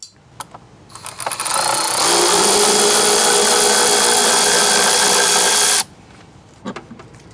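Socket tool removing the air hat from a Jeep/Dodge 5.2/5.9 V8, a loud, continuous mechanical whir running about five seconds after a few light clicks, then stopping abruptly.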